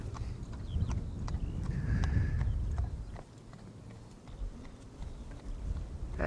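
Horse hooves clip-clop steadily as a horse and carriage passes along a path near an airport runway, moderately close at first and fading after a few seconds, with faint outdoor ambience and a few bird chirps.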